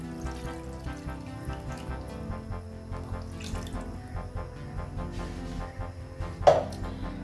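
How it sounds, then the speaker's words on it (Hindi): Water pours and splashes into a pot of mutton yakhni soup seasoned with black pepper, a steady running trickle heard close up that carries on throughout with no talking. "पानी थोड़ा और डाल लेंगे।"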